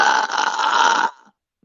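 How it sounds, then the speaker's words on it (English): A girl lets out one long, loud, rasping burp lasting about a second, close to the microphone, followed by silence. "I burp a lot."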